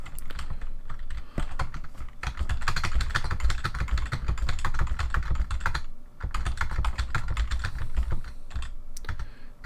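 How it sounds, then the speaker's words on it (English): Rapid, continuous typing on a computer keyboard that has turned loud after cleaning stripped much of the grease from it. The clacking keystrokes are close, steady and dense for the whole stretch, with no talking. "My keyboard wasn't always this loud"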